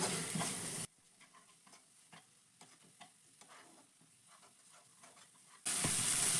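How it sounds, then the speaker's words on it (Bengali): Ground spice paste of dried chilli and onion is stirred and fried in a pan for an egg curry, giving soft scraping strokes and a faint sizzle, framed by louder bursts of noise at the start and end. "এবার ভালো করে আমি মশলাগুলো মিশিয়ে নিচ্ছি"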